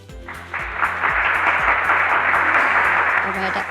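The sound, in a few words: audience applause for award winner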